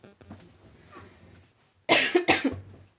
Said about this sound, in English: Hear me coughing.